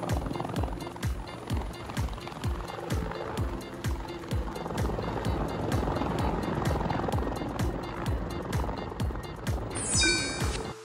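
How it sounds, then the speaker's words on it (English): A rescue helicopter flies steadily, its rotor thumping in a fast even rhythm with a constant engine whine underneath, moderately loud and unbroken, then a brief high chirp near the end. "Rescue helicopter is a specialized vehicle for search and rescue in places with complex terrain"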